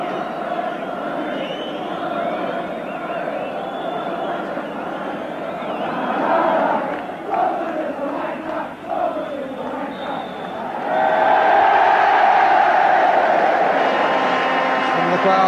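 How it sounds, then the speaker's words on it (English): A football crowd at a Tottenham match, a sustained broad roar of applause and noise, swelling louder near the end, with commentary over it. "And the crowd applaud a very satisfactory opening performance by Tottenham"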